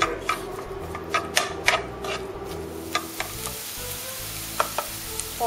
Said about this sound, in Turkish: Az önce doğradığımız soğanı da ilave ediyoruz. Ve şeffaflaşana kadar kavuruyoruz.